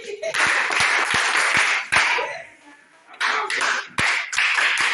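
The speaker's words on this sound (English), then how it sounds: "Clap for me." Clapping during a literacy teaching activity with games, sharp individual hand claps in irregular bursts mixed with a small group's clapping, pausing briefly midway before resuming, close and fairly loud.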